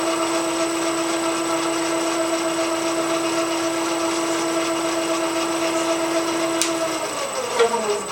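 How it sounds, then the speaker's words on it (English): A small electric motor on a single-plane balancing rig runs at speed, giving a steady close hum with a clear high whine that stays even, then shifts slightly near the end with a faint click. "Final step, run the motor up to speed."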